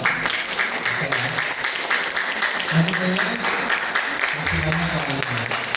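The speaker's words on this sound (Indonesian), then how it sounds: "Tepuk tangan dong." Audience applause at an Indonesian seminar-style product presentation, a steady wash of clapping filling the room for several seconds with murmuring voices mixed underneath.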